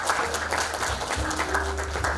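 Audience applause at a peace forum session in Jeju, a short burst of steady crowd clapping in a conference hall, continuous throughout with a low hum beneath.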